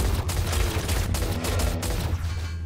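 Pistol fire in the shooter game Shadowgun Legends: a dense, steady run of gunshots and low booms fills the stretch, loud and continuous with no clear breaks between shots.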